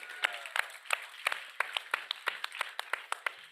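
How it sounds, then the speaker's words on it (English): Sparse applause at a youth food lab final event, a handful of distinct claps in a fairly regular rhythm, faint and somewhat distant, with no talking over it. "A round of applause."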